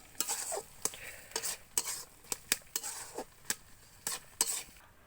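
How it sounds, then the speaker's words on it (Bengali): A spatula scrapes and stirs cooked, mashed pumpkin in a pan in short irregular strokes, about a dozen soft close scrapes with faint sizzling between them. "এটা হয়ে গেছে, খুন্তির সাহায্যে মাখা মাখা করে নামিয়ে নেব।"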